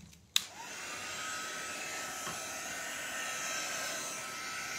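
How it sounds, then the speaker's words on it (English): A heat tool switches on with a sharp click and then blows a steady, loud airy roar across alcohol inks, continuing unbroken throughout without any voices. "And then I'm going to move it with the heat tool"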